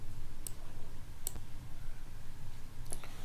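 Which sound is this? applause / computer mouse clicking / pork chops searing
computer mouse clicking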